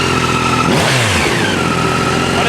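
A 2025 Yamaha R9 with stock exhaust is revved quickly, its engine note swelling up and dropping back in a loud, close burst before settling to a steady idle.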